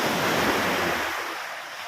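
Ocean surf crashes against a rocky fishing shore with a steady, loud broadband wash and wind noise, slowly fading as the wave recedes.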